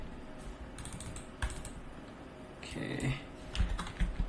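Quick clicks and taps of typing on a computer keyboard come in short irregular runs, close and fairly quiet, while a voice speaks briefly over a soft room hum.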